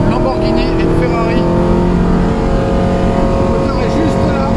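A Ferrari 458 Challenge race car's engine roars loud and close on the Magny-Cours circuit, a steady high-revving drone held throughout with no letup.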